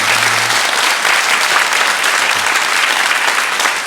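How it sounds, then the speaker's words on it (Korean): A church congregation gives loud, sustained applause during a Sunday morning worship service, a dense steady wash of clapping that fills the room for the whole stretch. "여러분 큰 박수로 여러분 감사해 주시기 바랍니다"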